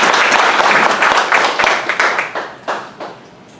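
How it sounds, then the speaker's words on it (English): A city council workshop audience claps briefly, a loud burst of scattered hands that thins into a few separate claps and fades within a few seconds. "That deserves a round of applause."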